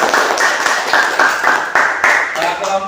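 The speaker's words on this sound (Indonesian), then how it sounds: "Kasih aplaus untuk kelompok 4." A classroom group claps for group 4, a short burst of brisk, fairly loud applause from several people with a steady patter lasting a few seconds.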